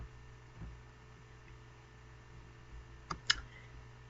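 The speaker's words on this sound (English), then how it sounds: "If you want to edit the assignment, if you want to delete it or edit it, you should click this little icon here." A couple of quiet computer mouse clicks land near the end of a low, hissy stretch, sharp and close.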